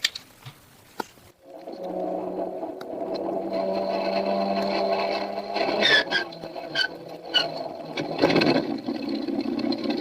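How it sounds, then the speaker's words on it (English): Aircraft engine number 1 cranking and catching in a radio drama effect, a steady droning engine hum that builds and runs with rattly mechanical bursts layered over it. "Here we go with engine number 1."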